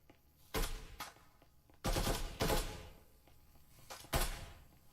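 Rifle shots ring out in the VR esports shooter Breachers during a competitive match. Several sharp, loud bursts come at irregular intervals, one of them a quick double, with quiet gaps between them.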